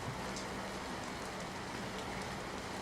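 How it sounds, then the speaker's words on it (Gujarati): Heavy rain falls steadily in Surat, giving a dense continuous hiss and low rumble that is faint but unbroken, with no voices. "વરસાદ સુરતમાં વરસી રહ્યો છે।"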